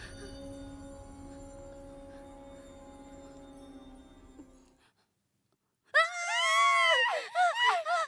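Someone screams loudly and close by in a horror drama, a series of wavering, rising and falling shrieks that break out after a low hum and a moment of near silence.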